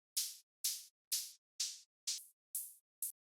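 Two hi-hats synthesized from white noise through bandpass filters in Ableton's Operator play together in seven evenly spaced, crisp hissing hits, each with a sharp attack and short decay, dry and isolated.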